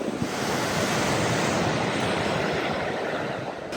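Surf washing onto an empty beach at Batemans Bay on the south coast, a steady broadband roar of breaking waves with wind noise, close and loud throughout with no voices.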